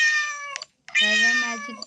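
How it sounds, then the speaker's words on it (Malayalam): A cat gives two loud, close, drawn-out meows separated by a brief silence, the second one longer and lower. "ഈ പൂച്ച ശല്യിക്കാ."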